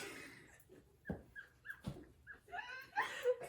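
A therapy dog whimpers and whines in short, soft high-pitched bursts, close by, with a couple of faint thumps between.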